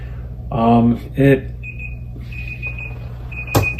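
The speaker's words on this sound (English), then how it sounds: "there's my timer, and to stop me from talking too long" An electronic timer alarm sounds in short steady beeping tones behind the talk, moderately loud, following a couple of spoken syllables and ending with a sharp click.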